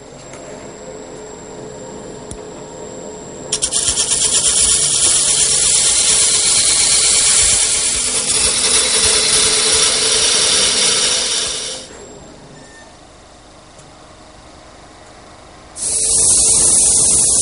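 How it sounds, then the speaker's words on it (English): A parting tool cuts into wood spinning on a lathe, a loud, harsh scraping whir that starts abruptly, runs steadily for about eight seconds, drops away to a quiet lull, then resumes at full strength. "by using the calipers and this parting tool, I can start the turning"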